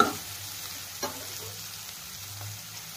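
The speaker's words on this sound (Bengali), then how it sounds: "আমি স্লাইট নুন আর একটু হলুদ দিয়ে আলুটা ভাজবো" Potatoes frying in a pan with a little salt and turmeric for a homemade pasta dish, giving a soft, steady sizzle with a couple of faint stirring scrapes, heard alone.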